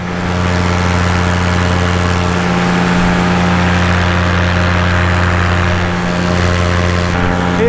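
A light propeller aircraft engine drones loudly and steadily during climb-out after takeoff, heard from inside the cockpit with constant engine tones and no talk.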